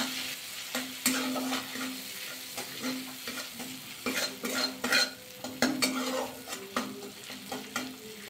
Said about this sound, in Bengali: প্রথমে মশলাটা কষিয়ে নেবো একটু।